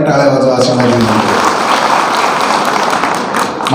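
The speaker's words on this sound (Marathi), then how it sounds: "आपण आज अजून एकदा जोराने टाळ्या वाजवा" A crowd at an outdoor anniversary gathering in a Maharashtra village applauds loudly, the dense clapping rising after a voice fades and holding steady at close range for several seconds.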